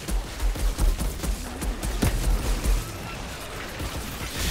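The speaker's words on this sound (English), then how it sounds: "Oh my god, she's gonna die just from this minigun" Minigun fire in the shooter game Outriders, a dense rattle of rapid shots and booming impacts pulsing through a chaotic battle, loud and close with no speech.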